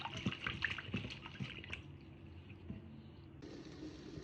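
Running water splashes and trickles steadily, with soft clinks and rubbing as ponmo (cow skin) is rinsed close by; the flow shifts slightly near the end.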